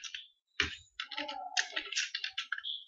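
Rapid clicking of computer keyboard keys as code for a message box is typed into a C# Windows Forms application, a quick burst then steady bursts of keystrokes, close and fairly loud, with no talking.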